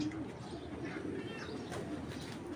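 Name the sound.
red checker racing pigeon cooing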